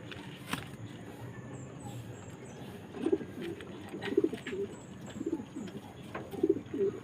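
Soft, low pigeon cooing repeats in short bursts over a steady background hum, with a few faint bird chirps scattered through.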